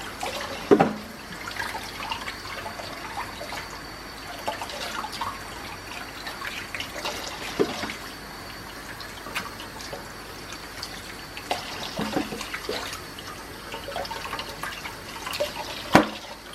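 Fish being rinsed under a running kitchen tap: a steady stream of water pours and splashes, with occasional louder splashes and drips as the fish is handled.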